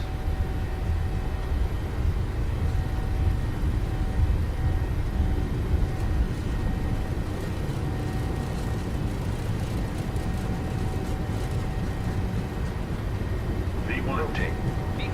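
A Boeing 737-800 takes off in Microsoft Flight Simulator, its engines holding a steady loud roar with a rumbling rush of the takeoff roll underneath, while someone talks over it.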